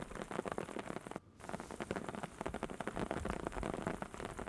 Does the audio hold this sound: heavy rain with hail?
yes